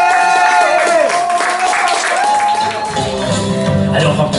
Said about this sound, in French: un tonnerre d'applaudissements pour Agnès